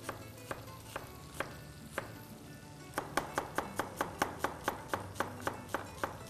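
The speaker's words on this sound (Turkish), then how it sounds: "Soğanımızı ince ince doğrayalım." A knife chops onion finely on a board, sparse taps at first and then a quick, steady run of close, crisp strikes, fairly quiet with no talk.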